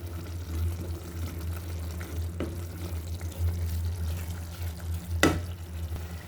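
Coriander and chilli powder spices being stir-fried in a pan for a fish curry, a low soft sizzle with occasional scraping stirs and one sharp clink of a utensil, close, no voices.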